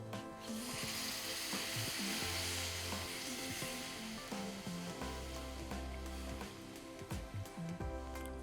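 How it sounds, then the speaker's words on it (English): An onion tomato masala with powdered spices sizzles in a pan, a steady frying hiss broken by low clatters and scraping stirs as water is added, heard close and fairly quiet. "This is the time we will add some water."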